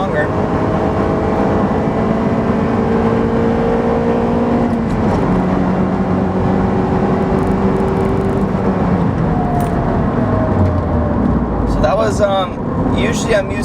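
A car fitted with a ram air intake revs and pulls hard, rising in pitch through the gears with a loud, close drone and a brief shift near the end.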